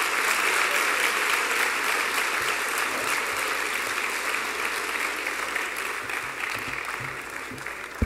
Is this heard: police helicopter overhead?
no